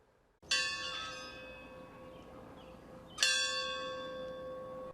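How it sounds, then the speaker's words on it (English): The Kent State University victory bell is struck twice at a remembrance ceremony, about three seconds apart. Each strike is a bright metallic clang with a long, shimmering ring that decays slowly, heard alone at moderate distance. "he was honored to ring the victory bell at Kent State University in remembrance"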